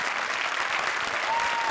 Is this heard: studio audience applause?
yes